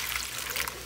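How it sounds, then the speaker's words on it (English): A cup of water pours into a crock pot as a brief, steady trickling splash, close and fairly quiet. "I am going to get a cup of water, and then it's going to go."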